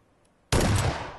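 A single loud gunshot bursts in after half a second of near silence in PlayerUnknown's Battlegrounds on Xbox One X, its blast ringing out and slowly decaying through the rest of the moment.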